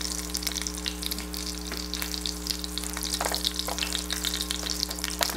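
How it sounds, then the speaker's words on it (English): Rib-eye peppercorn steaks sear in hot oil and butter in a pan, giving a steady, close crackling sizzle with scattered pops over a constant low electrical hum, without any talking. "the oil and the butter is sizzling and it's ready really to go in"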